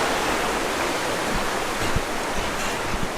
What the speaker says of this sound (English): Getting across the Syphilis River right now.